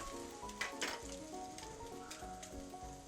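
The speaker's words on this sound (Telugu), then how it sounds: "చక్కగా ఫ్రై అవుతుంది. ఎక్కువ ఆయిల్ అక్కర్లేదు, అందుకే నేను నాన్ స్టిక్లో చేస్తున్నాను." Bread for French toast, made with egg and milk, fries in a ceramic non-stick pan with a soft, continuous sizzle that has a few brighter crackling bursts.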